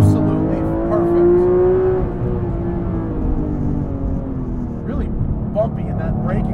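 Porsche GT car driven hard on a track, loud engine note climbing then dropping as it brakes heavily into ABS, with someone speaking over the engine noise.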